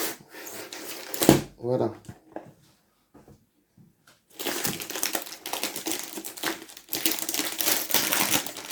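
Diamond painting kits being unpacked, with crinkling plastic and rustling package sounds in bursts, a short pause, then sustained loud crinkling and handling, under brief speech from one person.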